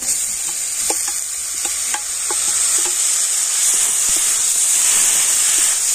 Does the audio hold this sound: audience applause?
no